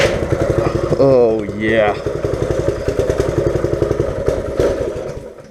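A small engine pull-started and caught, running with a rapid chugging putter close by while someone speaks briefly over it.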